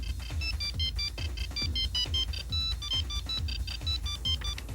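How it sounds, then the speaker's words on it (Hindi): A cell phone rings with a repeating electronic ringtone, bright chirping tones in quick bursts over a steady rhythmic pattern, loud and close with no talking. "ये देखो, ऐसी रिंग है।"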